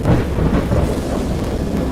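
Thunder rumbles heavily through a great storm in a horror game adaptation of Lovecraft's Dagon: a loud, sustained low roll with no voices.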